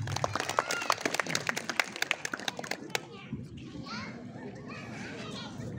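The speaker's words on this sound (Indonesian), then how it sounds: "Sekali lagi beri tepuk tangan" An audience at a PSHT Ranting Rajeg halal bihalal gathering in Tangerang gives a quick burst of sharp clapping, which fades after a few seconds into chatter and children's voices nearby.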